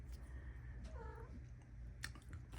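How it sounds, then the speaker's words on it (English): A pet cat gives a single drawn-out meow, faint and indoors, against a low steady background hum with no talking. "You hear baby cat."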